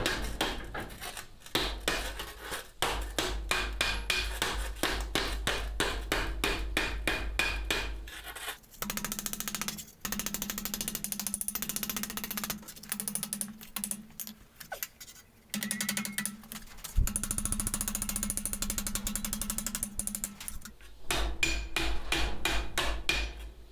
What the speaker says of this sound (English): adjust your position, where you're hammering, how hard you're hammering, making sure you're actually hammering over the thing